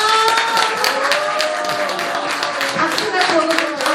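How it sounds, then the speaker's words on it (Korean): Audience applause rises as a guest is welcomed on stage at a Korean variety event: steady, dense clapping throughout, mixed with voices and bright tonal sound. "박수가"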